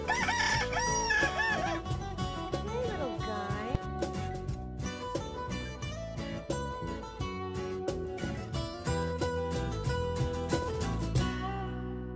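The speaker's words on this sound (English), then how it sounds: "they end up growing too loud chickens, and then they don't know what to do with them" Roosters and chickens at a farm sanctuary on an Israeli honey farm, crowing and clucking loudly in a dense, overlapping chorus that runs continuously throughout.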